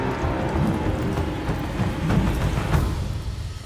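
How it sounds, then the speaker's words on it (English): In Black Myth: Wukong, a shower of blood rain falls as a continuous patter and hiss, fairly close and even, with soft low rumbles beneath. "It's raining blood?"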